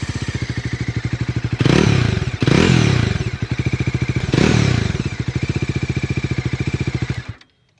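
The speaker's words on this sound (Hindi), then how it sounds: "इसका एग्जॉस्ट साउंड काफ़ी अच्छा है." A 2025 Bajaj Dominar 400 motorcycle exhaust thumps in a deep, bassy, steady idle, then roars up in two sharp revs before settling back and cutting off; loud and close.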